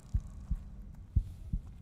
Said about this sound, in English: Ooh, I like the heartbeat sound.